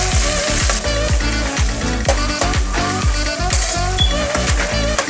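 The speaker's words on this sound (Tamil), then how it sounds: "இப்போ இந்த சின்ன வெங்காயம் வதக்கிக்கிட்டு இருக்கையிலே" Small onions sautéing in hot oil for village-style South Indian fish gravy, a loud, steady sizzle with rhythmic scraping of a spoon stirring through the pan.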